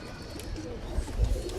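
Soft, low pigeon cooing nearby, a brief murmuring call over a steady background hum; the bird is a Teddy pigeon.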